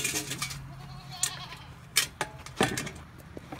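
Goats on a farm bleat in a few short, scattered calls, close and moderately loud, over a low background hum, with brief clatter between the cries.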